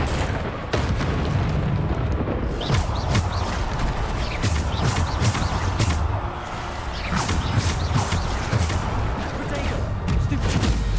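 Booming magical blasts from the Bombarda spell in Hogwarts Legacy, rumbling continuously alongside other combat noise and clashes throughout, loud and dense with no clear pauses.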